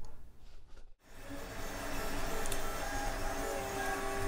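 A 3D printer prints a corner piece for the bottom rim of a Star Wars GNK power droid body frame, giving a steady, close, continuous whir of stepper motors with busy shifting tones, after a brief dip near the start.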